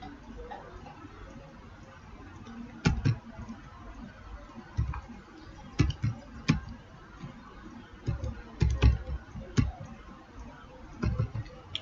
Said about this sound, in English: you are going to type it here.